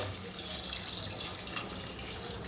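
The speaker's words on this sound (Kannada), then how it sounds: "ಈಗ ಇದಕ್ಕೆ ನೀರು ಸೇರಿಸ್ಬೇಕು ಈಗ ತರಕಾರಿ ಮೇಲೆ ಬರೋ ಅಷ್ಟು" Steady water pours into a cooking pan of vegetables for potato-cauliflower curry for a few seconds, a continuous splashing stream with no voices.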